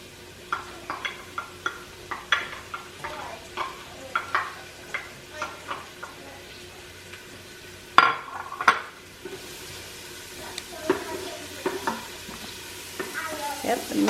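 Chopped onions frying in a pan and being stirred, with a steady sizzle under a long series of rhythmic utensil scrapes and knocks against the pan, close and clear.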